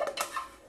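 Cooked rice is stirred in a metal pot for Greek-style rice, a spoon scraping and clinking against the pot in a few light, quick taps, fairly quiet and close.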